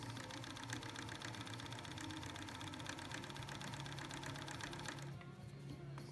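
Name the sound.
sewing machine stitching fabric pieces together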